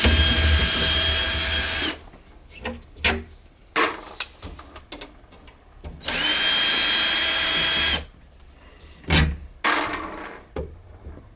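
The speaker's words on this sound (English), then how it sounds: "So I'll get my screwdriver, pull the panel off" A power screwdriver removes the screws holding a bathroom sink panel: two loud, sustained whirring bursts with scattered clicks and handling knocks between them.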